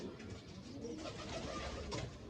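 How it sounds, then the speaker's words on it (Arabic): Domestic pigeons coo softly and continuously, close by and fairly quiet, with no voices over them. "ده فرد حمام، ده فرد حمام انا بنش منه اهو"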